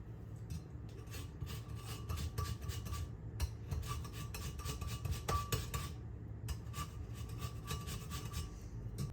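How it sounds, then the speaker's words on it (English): Lemon rubbed against a zester, a close, rhythmic series of short rasping scrapes that repeats quickly with brief pauses, with no voices. "We need the zest of a lemon."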